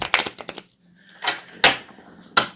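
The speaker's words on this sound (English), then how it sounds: "I'm going to give this first set of cards a couple shuffles." Tarot cards being shuffled, a few quick close riffles and soft slaps in short separate bursts with quiet gaps between them.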